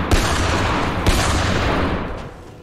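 Gunfire in Factorio, a dense burst of rapid shots from an in-game weapon, loud and close, with two sharp heavier blasts that taper off near the end.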